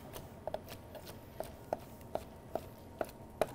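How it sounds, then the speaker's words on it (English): Knife chopping through cooked Maine lobster meat on a cutting board, a quick rough chop heard as about eight crisp, separate taps at an uneven pace, close and fairly quiet. "we're going to give this a quick little rough chop"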